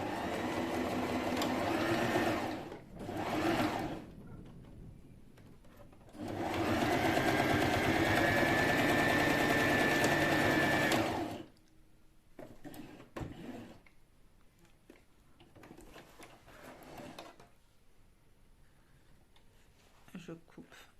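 A sewing machine stitches a 1 cm seam line on a fabric pouch, with backstitching at the start and end. It whirs in two short bursts and then a steady five-second run, followed by quieter handling clicks and rustles.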